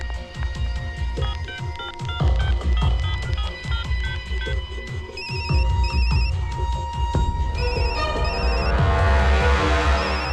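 A mobile phone rings after its number is dialed in a dramatic film scene, with short repeated bursts of a bright electronic ringtone sounding over dense background music, with no talking.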